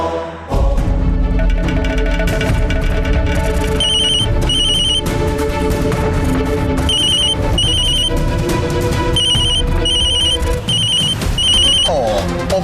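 Telephone ringing in repeated electronic bursts over a loud, dramatic television-serial music score, ringing on and off throughout.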